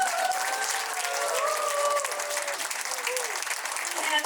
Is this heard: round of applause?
yes